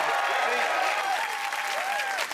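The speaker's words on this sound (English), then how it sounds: "Give her a round of applause." Studio audience applause on a 1990s comedy trivia panel show: sustained, even clapping throughout, with cheering or whooping voices rising over it near the end.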